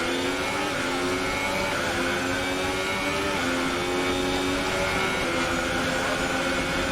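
A Formula 1 car from the F1 2018 racing game howls at high revs around Monza, a loud continuous engine whine with stepped gear-change pitch sweeps, steady throughout with no talk.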